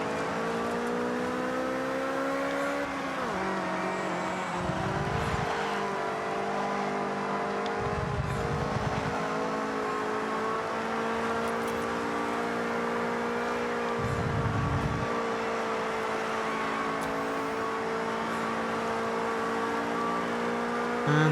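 A Subaru Vivio's engine racing in Forza Horizon, a steady sustained drone that holds high revs with a few brief dips at gear changes, continuous and fairly loud with no voices.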